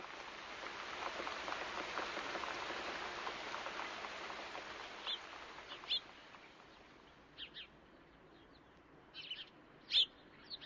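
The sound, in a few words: rain falling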